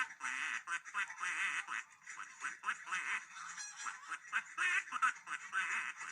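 A person imitates duck quacks, a steady run of nasal, honking calls repeated in quick succession, close and fairly quiet.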